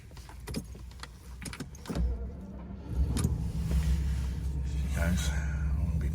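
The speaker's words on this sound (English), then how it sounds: "I'll be pulling off very slowly" A Jaguar XJ Series 3 Sovereign with a 5.3 V12 pulls off very slowly on a road drive, a low engine rumble rising and holding steady after some faint clicks and handling noises.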